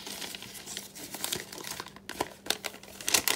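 A paper bag being folded by hand for a journal: close, crisp crinkling and crumpling in uneven bursts, with a few sharper creases and crackles toward the end.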